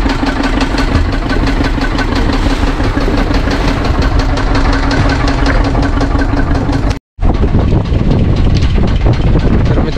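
A wooden fishing boat's engine chugs on water at dawn during a mud crab netting trip. It is a loud, close, steady knocking drone that drops out for a split second near the end, then resumes.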